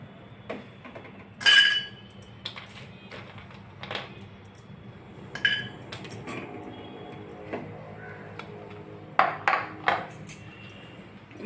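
Almonds roasting in a pan for a ghee-made poha chiwda, with sporadic clinks, taps and scrapes of a spoon stirring against the pan, fairly quiet and close with no talking.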